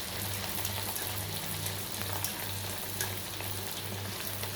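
Corn vada made from maize flour fries in hot oil in a kadhai, giving off a continuous crackling sizzle over a faint, regularly pulsing low hum.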